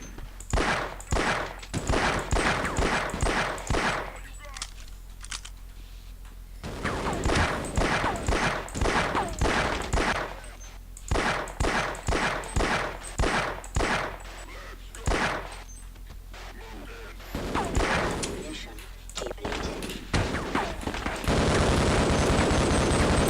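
A video game firefight fills the scene with rapid bursts of gunfire, fired in repeated volleys with short pauses between them and ending in a sustained roar of noise.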